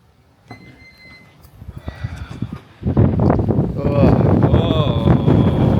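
Strong gusty wind on the Isle of Man buffets the microphone outdoors, starting softer and then roaring into a loud, continuous rumble, with people's voices faintly mixed into the blustery noise.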